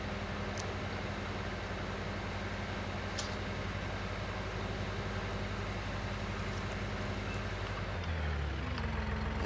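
A tractor engine in Farming Simulator 19 drones steadily and loudly under faint ticks, then its pitch drops as it shifts near the end.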